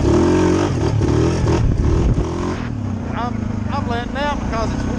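A 2020 Suzuki KingQuad 750 ATV engine pulls and accelerates close by, a steady loud drone with rising pitch sweeps, while someone talks over it.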